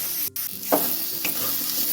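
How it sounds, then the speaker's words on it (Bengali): Eggplant fries in a pan with a steady, close hiss of sizzling oil, with a brief dropout and a couple of short stirring scrapes. "বেগুনটা ভালো করে আমি ভাজা ভাজা করে নিলাম"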